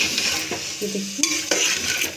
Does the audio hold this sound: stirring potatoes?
yes